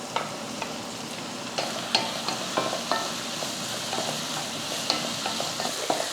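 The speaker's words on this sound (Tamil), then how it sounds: "வெங்காயத்தோட அந்த பச்சை வாடை போனதுக்கப்புறமா ஒரு தக்காளி சேர்த்துடலாம்." Chopped tomato sautéed with onions in a hot pan for a mutton or chicken kulambu, a continuous close sizzle broken by frequent scraping stirs and light clicks.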